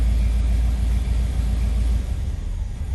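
A 1985 Chevrolet Caprice Classic engine idles low and rough as it threatens to stall, a steady close-up rumble that drops and wavers near the end.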